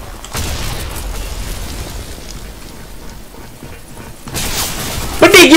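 Gunfire in a shooting video game: a loud, sustained stretch of noisy, crackling shots that eases off, then a fresh burst of louder reports near the end, with faint voices underneath.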